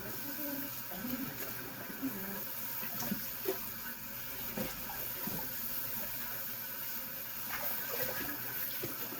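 Water running from a tap while something is washed with soap in a kitchen before making popcorn, a steady soft hiss with faint clinks and splashes, moderately quiet and continuous.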